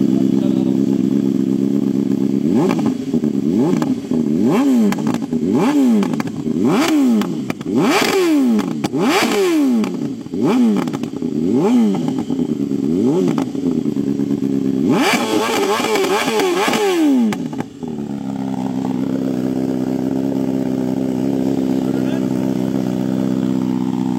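Tuned 2023 BMW S1000RR superbike with a modified exhaust, revved hard in a rapid run of sharp rising and falling bursts, then settling to a loud rumbling idle, close up with voices talking over it.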